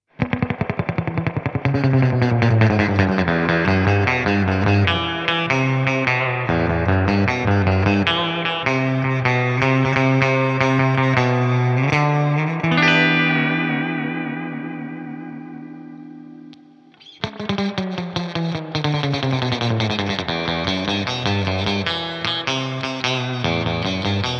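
A Fender Ultra Luxe Vintage Stratocaster in pickup position 1 plays a surf tone, with busy reverb-soaked picked lines, a sustained ringing chord that fades, then more bright rapid phrases, loud and alone.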